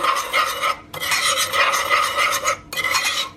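Sugar is mixed into an orange crumble topping in a bowl, three bursts of gritty rasping and scraping as a spoon works the dry mixture, close and loud with brief pauses between strokes.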